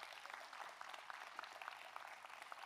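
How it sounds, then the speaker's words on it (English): Audience applause at a high school commencement ceremony, a soft, distant, steady patter of many hands clapping for a few seconds. "Let's give him another round of applause."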